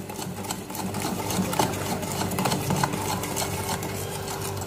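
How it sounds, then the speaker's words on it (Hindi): Buttermilk mixture being stirred in a bowl for a dry fruit cake batter, a steady continuous swishing and scraping that runs close and fairly loud throughout, with no talk. "इसे फिर से मिक्स करते हैं"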